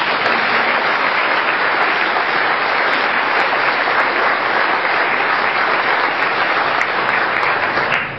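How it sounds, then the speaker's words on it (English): Sustained audience applause at a mayor's State of the City speech, a steady dense wash of clapping from a large crowd that holds at full strength for about eight seconds. "Let's give them a round of applause."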